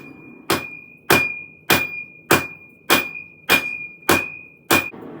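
A smith hammers a hot knife blade at a forge to widen and thin it. Eight sharp, ringing metal strikes land at an even pace, each with a clear high ring that lingers briefly.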